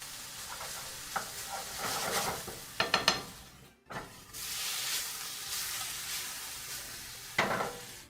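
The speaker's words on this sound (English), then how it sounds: "I also hope that the pan's not being too loud right now." Food sizzling and frying in a pan with a steady soft hiss, broken by a few clinks and scrapes of stirring utensils against the pan; close and moderately quiet, no speech.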